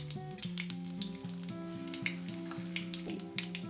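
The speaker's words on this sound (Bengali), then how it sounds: "এবার দিয়ে দিলাম কালো জিরে ফোড়ন" Nigella seeds and dried red chilli sizzling in hot oil for a tempering, a steady close crackle with faint stirring, while a low tonal hum pulses repeatedly underneath.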